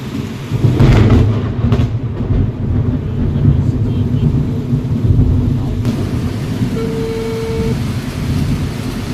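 A thunderstorm with heavy rain pours steadily and loud, while deep rolling thunder rumbles through the low end for several seconds, close and enveloping; no speech stands out over the storm.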